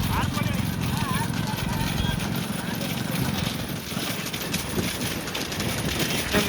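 Horse hooves clip-clop steadily as a horse pulls a single cart along a road at a rural fairground, with wind buffeting the microphone and someone talking over the steady hoofbeats.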